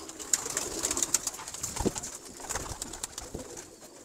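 Pigeons coo softly in a loft, a few low murmuring calls with faint chirps above steady background noise and no voices.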